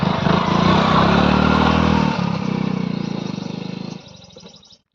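A motorbike engine roars loud and close in a steady, buzzing drone that drops in level near the end and cuts off, with no talk.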